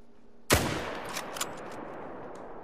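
A single rifle shot fired at a fallow deer in a hunting video game, one sharp loud crack followed by a long fading echo rolling across open ground.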